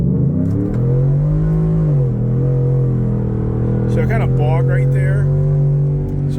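A Ford Coyote V8-engined car accelerating from inside the cabin, a loud, steady low engine drone that hesitates and bogs briefly mid-pull before continuing, with someone talking over it.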